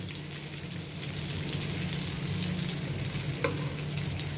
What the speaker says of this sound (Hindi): लो फ्लेम पे इसको अभी मैं थोड़ा फ्राई करती हूँ।